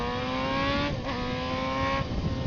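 A 600cc motorcycle in fourth gear around 4,000 RPM opens the throttle, its engine tone rising in steady harmonic lines with a brief dip near one second, loud and close throughout.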